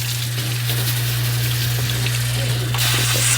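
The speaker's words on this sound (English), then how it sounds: "it like rinses the rice, and you'll actually be able to see it in the sink" Tap water runs into a kitchen sink while rice is rinsed, a close steady gushing splash over a low pump-like hum, growing slightly brighter toward the end.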